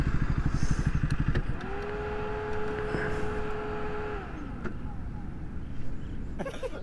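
Motorbikes near the sand at Appikonda beach, engines rumbling then easing off and stopping, with a brief horn-like tone and voices in the background.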